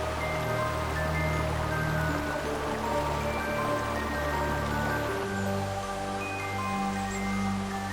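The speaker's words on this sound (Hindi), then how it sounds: "अभी थोड़ी सी बारिश हो रही है" Light rain falls in a valley in Himachal near a waterfall, a soft, steady patter and trickle of water with faint tonal sounds over it, gentle and continuous throughout.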